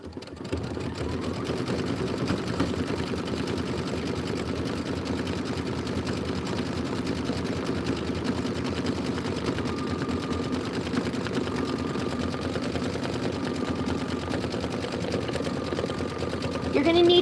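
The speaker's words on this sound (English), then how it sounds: "just do the decorative stitch" A domestic sewing machine runs steadily for a long stretch, stitching a decorative pattern on an autumn apple-tree appliqué quilt project. It gives a continuous close whirring hum with a fast mechanical needle rhythm, and a faint voice talks beneath it.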